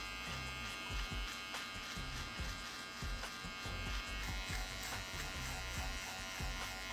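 A close electric trimmer buzzes continuously, its tone wavering as it moves against skin and hair, with no voices.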